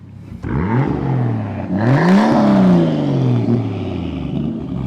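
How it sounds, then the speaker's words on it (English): A 1987 Toyota Supra Mk3's turbocharged inline-six engine revs up with a rising, throaty whine and turbo whoosh, holding high before settling, loud and close with no talking. "Rev the engine for me, sir."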